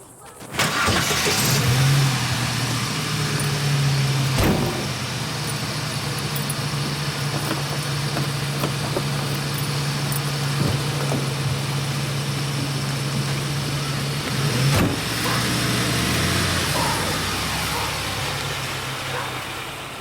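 Car engine running loud and close with a steady low drone and a sustained hum, broken by a couple of sharp knocks like doors or handling, with no talk over it.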